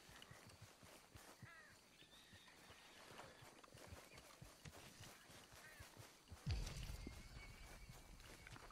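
Horse hooves clip-clop at a walking pace in Red Dead Redemption 2, soft and steady in the background, with a brief louder thump near the end.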